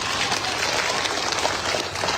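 Steady, dense applause from a crowd at a political rally in Assam, many hands clapping together without a break for the whole stretch.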